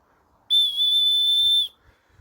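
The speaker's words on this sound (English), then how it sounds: "One nice easy willow whistle." A hand-whittled willow whistle blows one clear, high, steady note for about a second, loud and close, with a sharp start and a quick cutoff.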